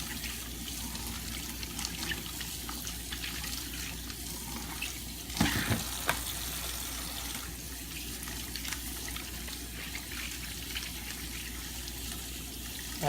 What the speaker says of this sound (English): And we are just gonna wash our corn.